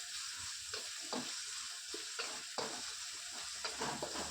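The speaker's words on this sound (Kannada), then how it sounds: "ಟೊಮೊಟೊ ಹಾಕೊಂಡು ಅದನ್ನು ನಾವು ಫ್ರೈ ಮಾಡ್ಕೊಳ್ಳೋಣ ಸ್ವಲ್ಪ ಫ್ರೈ ಆಗಲಿ" Tomato frying in a pan for sambar, a steady soft sizzle with repeated scraping stir strokes, fairly faint and close, no talk.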